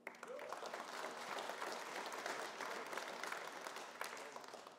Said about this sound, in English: hold your applause here if you can for everybody